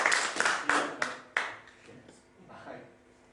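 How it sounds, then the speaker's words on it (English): A live comedy mind-reading show audience gives a short round of clapping, several sharp claps in the first second and a half that thin out and fade, with voices talking faintly underneath. "Round of applause for John."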